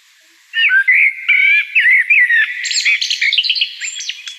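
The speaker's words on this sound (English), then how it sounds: "is a blackbird." A blackbird sings a clear, close phrase of fluting, warbling whistles, starting after a short silence, then breaking into quicker, higher twittering notes toward the end, alone with no background noise.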